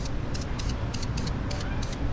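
Spray gun laying wet clear coat onto a 1981 Dodge D150 pickup truck, heard as about six short hissing bursts in an even rhythm over a steady low rumble of shop noise.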